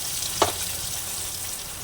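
Red chili and mustard-seed paste dropped into hot oil in a pan, giving a steady soft sizzle with one brief clatter near the start, close by and without talk.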